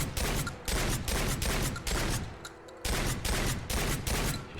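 Semi-automatic shotgun firing in Fallout 4, a run of loud, close blasts spaced roughly half a second apart with a short pause midway, each with a booming tail.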